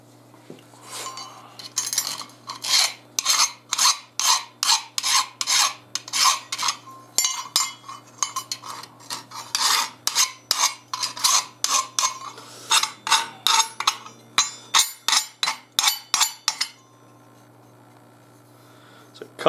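A file rasps a burr off the edge of knife steel in a long, steady series of about thirty close strokes. The scraping is moderately loud and stops near the end, leaving quiet.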